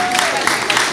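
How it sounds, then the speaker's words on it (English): Audience applause at a 501st Legion costume panel during the Festival of Trees, a dense, steady wash of clapping filling one brief moment. "Give her a big round of applause."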